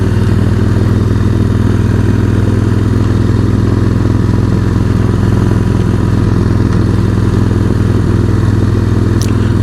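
Motorcycle engine running steadily through Harriman State Park, a continuous loud mid-pitched drone with no pauses and no talking.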